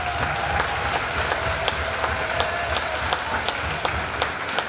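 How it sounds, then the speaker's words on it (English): Crowd applause for senior athletes at a spring sports award night, steady dense clapping from many people indoors, continuous and moderately loud throughout without speech. "Let's give them a round of applause."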